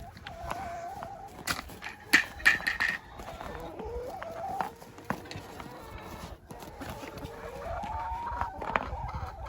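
Chickens clucking and squawking close by, a busy flock with irregular bursts of calls over a steady background.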